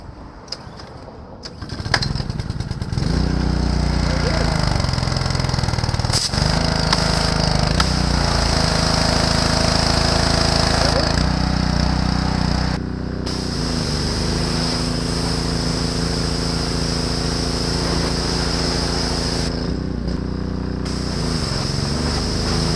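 A gas pressure washer engine starts with a brief sputter, then settles into a loud, steady, close-up drone that runs for about twenty seconds, with no talking.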